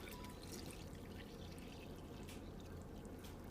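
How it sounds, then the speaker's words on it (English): Filtered water from a Berkey water filtration system pours into a pot in a home kitchen, a faint, even, continuous splashing trickle with no talk over it. "I'm also going to add in some filtered water from my Berkey water"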